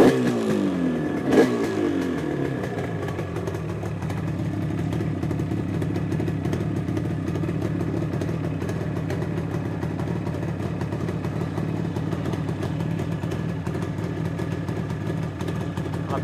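A 1987 Yamaha RD350 two-stroke motorcycle kicks into life with a rough burst, then settles into a loud, steady, close-up idle that carries on unbroken.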